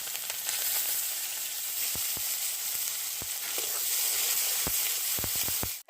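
Onions and chillies frying in hot oil, a steady close sizzle with a few sharp pops and spatters scattered throughout.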